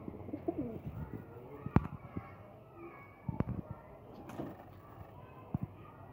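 Soft, low cooing of pigeons, faint and intermittent, with a few scattered knocks and rustles in a quiet setting.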